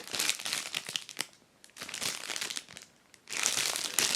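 Crinkling plastic bag being handled close up, in bursts of crackly rustling separated by short quiet pauses.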